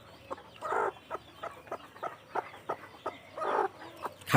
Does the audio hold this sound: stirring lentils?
no